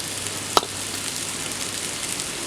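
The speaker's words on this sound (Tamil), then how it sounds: "அதே எண்ணெயில் எண்ணெய் ஊற்றிக்கலாம் வெங்காயத்தை சேர்த்து வணக்கிக்கலாம் ஒரு கப்பு பீன்ஸு ஒரு கப்பு முட்டைகோசு" Onion, beans and cabbage sauté in hot oil with a steady, even sizzle and a single sharp clink from a utensil partway through.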